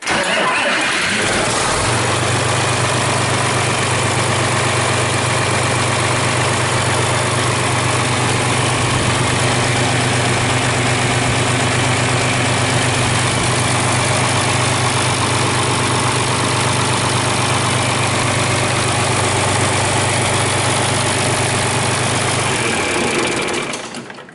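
A John Deere 4020 tractor engine starts and settles into a loud, steady idle that runs close and unbroken for over twenty seconds before cutting off.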